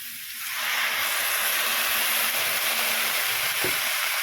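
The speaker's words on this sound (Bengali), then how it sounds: "সাইড থেকে একটু জল দিয়ে দিচ্ছি" Water poured into a hot pan of masoor lentils and bottle gourd stems sets off a loud, steady steamy hiss that swells after a brief quieter start and holds throughout, with no voices.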